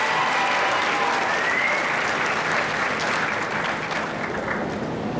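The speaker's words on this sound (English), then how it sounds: "I just wanted to give you a hand clap" Audience applause at a fifth grade promotion ceremony, with steady, loud, dense clapping from a large crowd that holds evenly throughout and tapers slightly toward the end.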